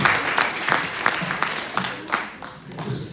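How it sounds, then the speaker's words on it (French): An audience at a stage hypnosis show in Carantec claps for a volunteer, a moderate burst of rhythmic applause from a crowd with faint voices underneath, fading slightly toward the end. "On l'applaudit encore."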